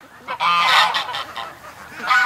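Ducks honk and quack loudly as they return across a lake, several overlapping close calls in a rough, uneven series.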